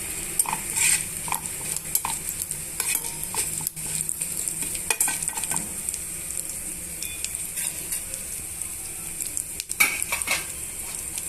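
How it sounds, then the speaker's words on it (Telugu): Beetroot pieces fry in a hot tempering while a utensil stirs them, giving a soft steady sizzle with frequent metallic clinks and scrapes against the pan. "ఇప్పుడు మనం బీట్రూట్ ముక్కల్ని ఈ తాలింపులోకి వేసేస్తున్నామండి"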